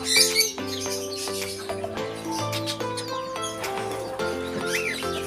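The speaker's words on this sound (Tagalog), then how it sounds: "Magandang mga ibon." Birds at a bird farm chirp and whistle repeatedly, overlapping calls and tweets from several birds close by, with a continuous low hum and faint background noise beneath them.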